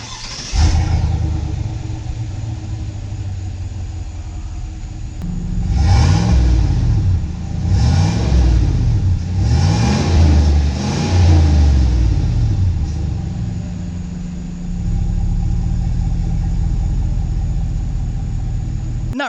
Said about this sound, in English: let's go ahead and take a listen to that exhaust